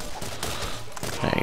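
Gunfire from the Borderlands video game, a rapid volley of shots that stays loud throughout and sharpens into a cluster of bursts near the end, with no talk over it.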